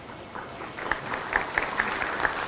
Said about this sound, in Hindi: लगातार सम्मान स्वरूप तालियों की गड़गड़ाहट जोरदार तरीके से होती रहनी चाहिए आप सबकी तरफ से